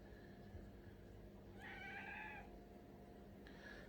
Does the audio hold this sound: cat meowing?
yes